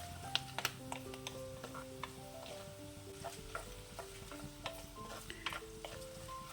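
Garlic and curry leaves fry in hot oil for Kerala kanthari chili pickle. A constant sizzle runs under repeated light scraping and tapping of the stirring utensil, with faint tonal music in the background.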